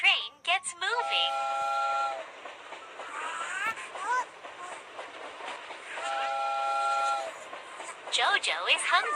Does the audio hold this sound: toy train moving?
yes